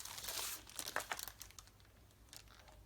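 Sheets of graph paper from a second-hand shop crinkle and rustle as they are handled up close, a quiet run of papery crackles that fades toward the end.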